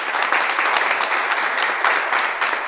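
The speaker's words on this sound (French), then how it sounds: "ça mérite des applaudissements" Dense, loud audience applause rings out as a continuous wash of many hands clapping, close and steady with slight swells, with no voices over it.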